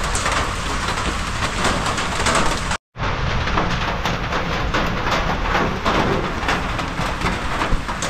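Steady, heavy rain hisses continuously, broken by a brief moment of silence, then resumes just as loud and dense.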